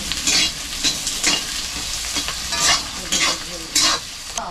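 Onion and bay leaf fry in hot oil at an outdoor forest picnic. A steady sizzle is punctuated by bursts of spatula stirring and scraping roughly every half second. There is no talking.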